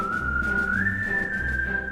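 A person whistles one clear, sustained note that glides slightly upward and holds, close and alone against a low background hum.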